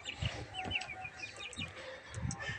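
Chicks in a cage on a balcony chirp in short, high, overlapping peeps, fairly quiet and close, with a few soft low clucks between them.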